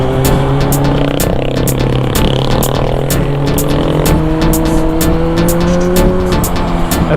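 Car driven fast up the Stelvio mountain road, engine droning loud and steady with pitch climbing gradually, heard from inside, with regular ticking clicks running over the engine throughout.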